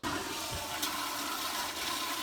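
A toilet flushing with water splashing, a loud continuous rushing gush heard close up and alone, with a couple of brief splashy spikes.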